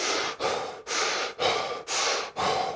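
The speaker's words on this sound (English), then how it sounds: "now we're both breathing in through the mouth and out through the mouth" Hard, forceful breathing in and out through the mouth at high exertion, five quick, even cycles of loud, close, breathy air with short gaps between, no talking.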